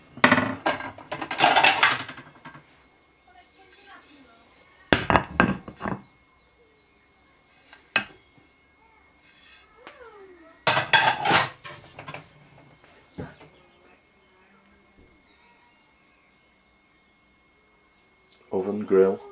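Crockery, pots and pans handled in a caravan kitchen: loud clattering bursts of metal and dishes separated by quiet stretches with faint knocks and a voice speaking.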